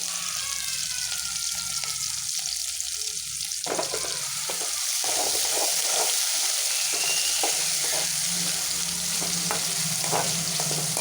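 Tomatoes fry and sizzle in a pan for pasta, a steady close hiss with intermittent stirring scrapes and clicks running throughout, no talking.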